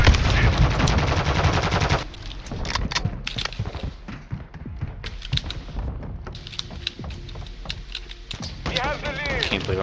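Rapid bursts of Kast rifle fire in Modern Warfare 2 during a Hardpoint match on Valdieras Museum, with loud repeated shots broken by short pauses and scattered single cracks, and voices talking over the gunfire.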